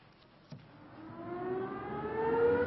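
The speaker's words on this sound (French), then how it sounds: "La sirène gronde à midi précise." Factory siren at the Forges de Guignon steelworks sounds at noon, a distant wail rising slowly and swelling louder over a couple of seconds, with a faint knock near the start.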